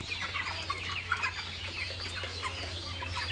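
Rooftop flock of hundreds of farm chickens clucking all at once, a dense busy chorus of overlapping clucks with a low steady hum underneath.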